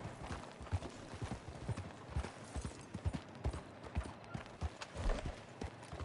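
Galloping horse hooves in Red Dead Online, a steady rapid clip-clop rhythm that stays close and fairly loud throughout, with no voices over it.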